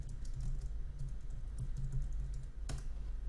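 Computer keyboard typing a short folder name, a quick run of soft close key clicks over a low hum, ending with one sharper keystroke.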